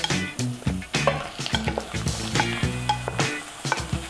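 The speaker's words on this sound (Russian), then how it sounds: "И обжариваем его до побеления." Minced meat sizzles and crackles in a hot frying pan while a utensil scrapes and stirs repeatedly, close and busy.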